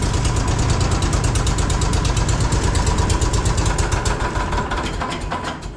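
A small engine on a go-kart project idles just after starting, a loud, steady, close rumble with an even rapid pulse that eases slightly toward the end, with no talking over it.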